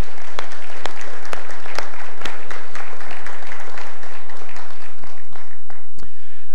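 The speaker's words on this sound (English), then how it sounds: "let's give God a hand for the service that takes place here." Loud applause from a church congregation, dense continuous clapping with individual sharp claps standing out, fading near the end.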